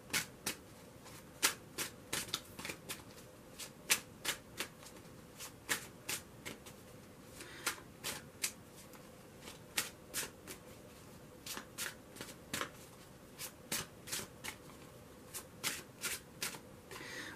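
Tarot cards are shuffled by hand in a close, quiet room, making repeated crisp riffling slaps in an irregular rhythm for about seventeen seconds. No one speaks.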